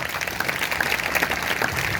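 A church congregation at a Sunday service claps together, a brief, dense burst of applause that stays steady for its short length.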